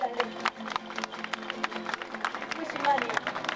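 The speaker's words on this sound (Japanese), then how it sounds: "皆さん心から応援の拍手を送りたいです" A crowd claps at an outdoor protest rally against restarting the Oi nuclear plant, held in front of the Prime Minister's residence. The steady scattered clapping runs under a speaking voice and crowd murmur.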